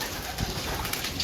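Pigeons cooing softly over a steady background noise, in a pigeon breeder's loft, with short low coos that repeat faintly through the moment.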